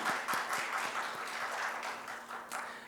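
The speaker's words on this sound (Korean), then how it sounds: "우리 잠깐 자리에서 일어나시면 큰 박수로 환영하겠습니다." A standing congregation at a Korean church Sunday service in New Jersey applauds to welcome guests: moderately loud clapping from many people with some distinct, fairly rhythmic claps, steady throughout.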